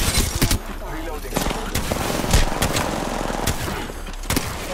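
Rapid automatic gunfire from an Apex Legends firefight plays as dense, loud overlapping bursts and shots throughout, with sharp cracks standing out among the continuous volleys.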